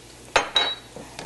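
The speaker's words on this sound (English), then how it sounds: "Just give it a nice stir." Spoon stirring refried beans with taco seasoning in a pan, a few sharp metallic scrapes and clinks against the pan in quick succession, close and clear.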